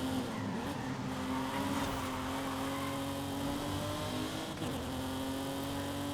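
Car engine revving steadily with tire squeal as a minor drift begins in a Forza Horizon 5 city street race, continuous and loud with no voices over it.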